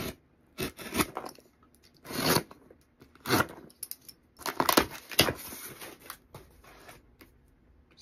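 A mailed care package holding mustache wax products and stickers is opened up close, with bursts of crinkling, rustling and tearing of packaging separated by short pauses.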